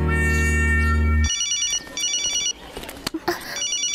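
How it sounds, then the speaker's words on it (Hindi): A telephone ringing in short electronic bursts, repeating three times, loud and close, with the opening second taken up by a sustained tone. "यस वो मेरा फोन है"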